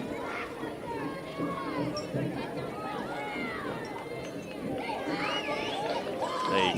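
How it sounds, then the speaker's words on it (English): Softball crowd in the stands at a high school state quarterfinal, fans in teal cheering and chattering with excited shouts and whoops, a steady babble of voices that swells louder toward the end. "The Cougar crowd there over to your left-hand side on the screen. They're pumped up"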